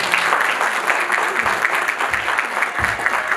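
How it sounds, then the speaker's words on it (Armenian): A theatre audience at an anniversary evening in Vanadzor applauds, a full, continuous wash of many hands clapping at a steady level for the whole stretch. "Խնդրում եմ ծափարենք նրանց։"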